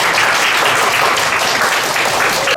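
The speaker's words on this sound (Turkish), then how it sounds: "Alkışlayalım birbirimizi." Dense, steady applause from a classroom of students at an end-of-term report card day in Siirt, loud and continuous with no pauses throughout.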